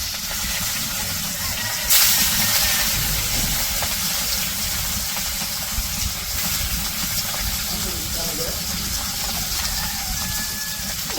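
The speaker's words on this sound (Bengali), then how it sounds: "মাছগুলো এখন দিয়ে দিতেছে কড়াইয়ে" Fish frying in hot oil in a wok during village home cooking: a loud, steady, close sizzling hiss that flares sharply early on as the pieces go in, then crackles on without pause and with no talking.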